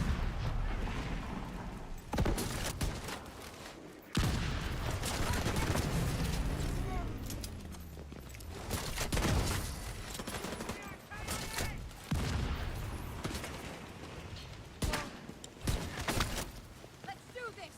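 Gunfire in The Division 2 video game: dense, loud bursts of automatic fire and sharp shots keep coming in repeated volleys, with players talking throughout.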